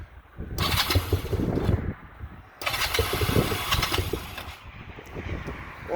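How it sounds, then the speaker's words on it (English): A cold 1991–2001 Honda Nighthawk CB250 motorcycle is cranked repeatedly with the electric starter, two long whirring crank attempts separated by pauses, then a brief third burst, close and fairly loud. "You're gonna rev a couple times, get the fuel flowing, and press start."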